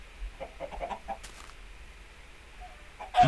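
A chicken clucking in the video game Minecraft, a short run of soft clucks near the start followed by quiet, then a brief louder sound at the end.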